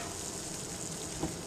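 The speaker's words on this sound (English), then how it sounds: "So the water bath is boiling." Boiling water bath for canning tomatoes, a dense, continuous bubbling hiss like a sizzle, close and steady with no talking.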